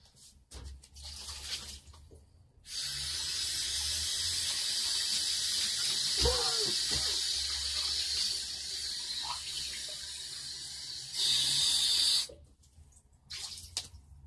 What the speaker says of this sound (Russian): Меняю воду для кота.